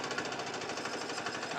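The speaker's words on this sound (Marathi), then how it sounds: "लय मशीनचा आवाज येतो करावं यो," A farm machine engine runs during wheat harvest in a village, a steady rapid mechanical chugging and rattling held at even loudness throughout, close by, with no talking.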